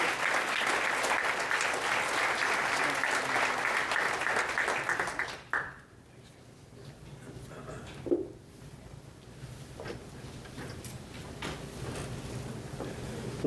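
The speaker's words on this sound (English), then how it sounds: "if we could just give a round of applause to those" An audience at a sports hall of recognition induction ceremony applauds in a dense, steady burst that cuts off abruptly after about five seconds, followed by a quiet room with faint scattered noises.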